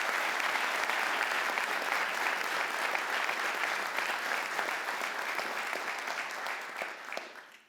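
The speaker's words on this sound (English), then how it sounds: "Can we give her a round of applause?" Sustained applause from an audience at an Indianapolis Metropolitan Police Department honor awards ceremony, dense and even for several seconds before tapering off and stopping at the end.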